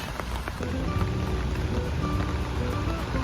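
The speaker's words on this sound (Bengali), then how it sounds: "দেখুন টিপটিপ করে বৃষ্টির ছাতের ছাতার আওয়াজ হচ্ছে" Light rain pattering on an umbrella on a rainy evening in New York, a dense, steady patter of small drops close by, with no voices.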